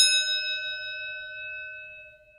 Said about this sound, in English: let's ring that bell and let's start today's pack battle